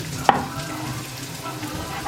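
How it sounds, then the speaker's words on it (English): Onions and green peppers sizzle together in a Ninja Foodi, a steady close frying hiss broken by one brief clatter near the start. "Ain't nothing like, you know, onions and green peppers cooking together"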